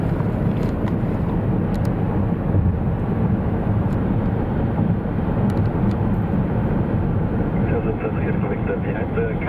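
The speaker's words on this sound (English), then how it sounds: "Oh, that's a bit of a rare aircraft there, isn't it?" A rare aircraft belonging to the King of Thailand at Munich airport gives a steady, loud jet roar that persists throughout, with a continuous rumble and some wind buffeting.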